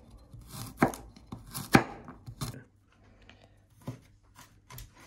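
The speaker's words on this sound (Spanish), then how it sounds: "Picamos el ajo pequeñito" A knife chopping a garlic clove finely on a board: a few sharp, close taps in quick clusters, some louder than others, then lighter scattered cuts in a quiet room, with no voices.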